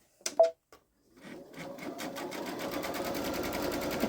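A Babylock Solaris embroidery machine starts up after a few small clicks and settles into a steady, fast rhythmic stitching hum, close and even, with no speech.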